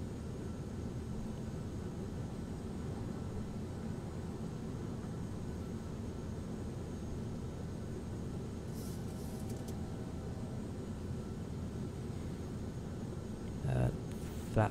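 Cabin of a Ryanair Boeing 737-800 descending and levelling off, a steady broadband engine and airflow roar holding constant throughout, with a brief knock near the end.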